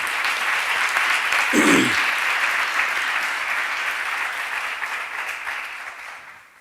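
An audience at a Swaminarayan religious gathering bursts into loud applause that holds steady, then slowly fades. A brief voice cuts in near the start.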